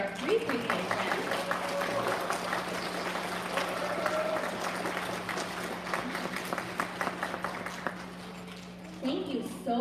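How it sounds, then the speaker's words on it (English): An audience at an elementary school recognition ceremony claps for pre-K students, giving a dense, sustained round of applause that tapers off near the end as a voice comes in. "Big round of applause for our 3 pre-K friends."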